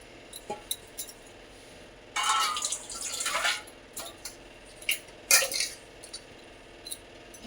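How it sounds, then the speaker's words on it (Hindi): Buttermilk poured into a clay pot: a burst of splashing liquid with a few drips and a faint clink of clay, then quieter pouring and splashes, close by with no talk. "मैंने इसमें ये मट्ठे को डाल दिया है"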